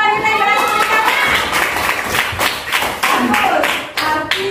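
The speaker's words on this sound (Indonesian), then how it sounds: "Tepuk tangan untuk kawan wanita yang berhasil mencapai." Students in a classroom lesson on series and parallel electric circuits clap for a classmate, giving a short burst of close, uneven hand claps with voices speaking over them.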